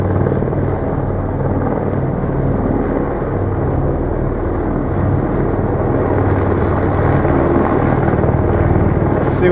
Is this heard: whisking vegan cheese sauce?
no